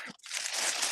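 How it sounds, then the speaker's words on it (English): Plastic packaging crinkles and crackles as a wrapped figure is unwrapped, a brief close rustle with a short pause, then a dense continuous crinkling. "I'm gonna go grab him and unwrap him"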